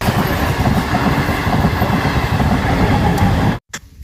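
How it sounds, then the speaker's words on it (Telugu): A train rumbles past close by at a railway crossing, a steady heavy roar of wheels on rails that cuts off abruptly near the end. "రైలు అయితే వచ్చేసింది ఫ్రెండ్స్"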